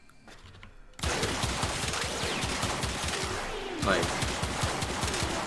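Knell Prime pistol fired in the video game Warframe, a burst of rapid, sharp, loud gunshots that starts abruptly and continues as a dense rattling volley, with a brief voice at the start.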